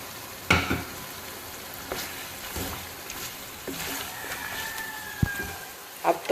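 Chicken karahi sizzles in a pan after yogurt goes in, with a continuous frying hiss broken by occasional spoon scrapes and stirring knocks, close-up and with no voices.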